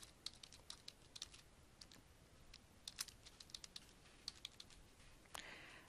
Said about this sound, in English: Enter your username and password.